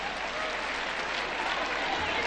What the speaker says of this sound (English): Give them a big round of applause one more time.